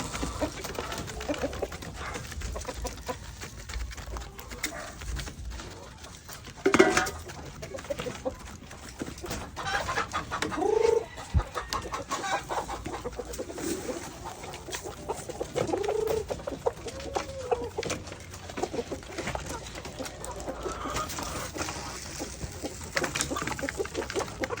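Free-range backyard chickens cluck and call in a busy, overlapping chorus while waiting for feed, with occasional louder squawks and steady flock chatter throughout.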